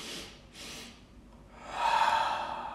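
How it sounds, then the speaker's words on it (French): Two quick, sharp inhalations during medical qigong breathing, close and audible, followed by a longer, louder breath with no talking. "vous faites aussi une respiration rapide, c'est-à-dire que vous faites deux inspirations en direction du cœur,"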